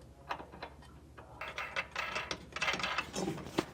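Metal nuts spun and ratcheted onto bolts while a Lippert Ground Control 3.0 electric leveling kit goes onto a 2022 Forest River trailer, close by, with irregular clicks and scrapes that grow busier toward the end.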